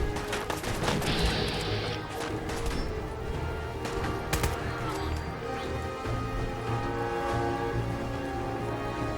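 Rapid bursts of Fallout 4 gunfire crackle and pop throughout, some sharp single shots mixed with clattering volleys over a rumbling background.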